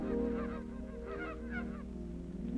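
Geese honk repeatedly in a brief flurry of calls over a steady low hum, fairly close, with no talking.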